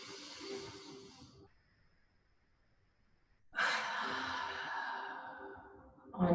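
Pranayama breathing in a stretch and meditation class: a long, audible breath fades into near silence, then a strong, close, airy exhale follows, with another breath starting at the end.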